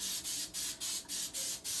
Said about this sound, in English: It's coconut spray.